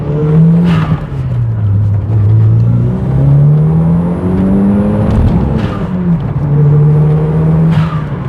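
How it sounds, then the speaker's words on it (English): A Toyota MR2 engine revs hard and repeatedly, its pitch climbing and falling in several loud, close sweeps with brief dips between pulls. "So I currently kind of revved out the engine there"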